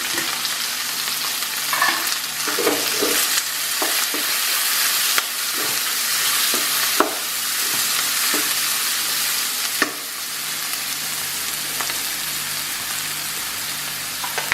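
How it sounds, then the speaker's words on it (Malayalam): Thinly sliced onions sauté in hot oil in a pan, a steady crackling sizzle running throughout with scattered sharper pops and clicks of stirring; close, fairly loud, and no voices. "ഏതാണ്ട് മൂത്ത് വരുമ്പോൾ കനം കുറച്ച് അരിഞ്ഞ് വെച്ചിട്ടുള്ള സബോള ചേർക്കാം."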